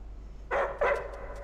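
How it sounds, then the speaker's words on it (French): Two sharp, close dog barks in quick succession, loud and alone against a quiet background. "Tais-toi le chien."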